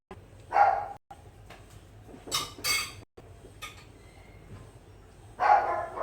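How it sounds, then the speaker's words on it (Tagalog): Several dogs barking at people passing by outside a home kitchen, in two or three loud bursts separated by quieter stretches with faint background clatter. "Ayan, kumakahol yung mga aso ko."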